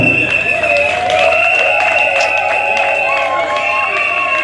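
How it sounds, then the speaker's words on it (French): Guests at a civil wedding clap and cheer for the couple, a loud, busy crowd roar with sustained shrill tonal cries riding on top and voices mixed throughout. "Applaudissez très fort pour le couple"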